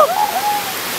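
Water rushes steadily down a natural rock water slide, a brief, close, hissing wash with a faint high whistle over it.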